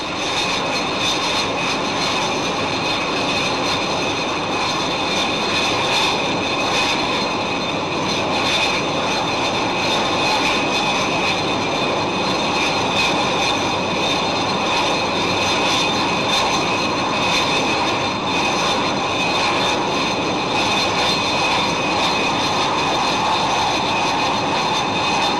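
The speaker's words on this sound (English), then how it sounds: "Tanks topped up, the Buccaneers pick up speed" Engines of Buccaneer jet strike aircraft roar steadily in flight during air-to-air refuelling at about 300 miles an hour, a loud, unbroken drone with no talk.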